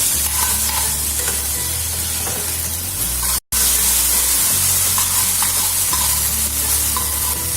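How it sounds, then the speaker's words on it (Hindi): A tempering fries in hot oil for lauki and chana dal, a loud continuous sizzle and hiss with stirring, broken by a brief silence partway through. "हम इसको हल्का सा तल रहे हैं ताकि इतना अच्छा सा फ्लेवर दे"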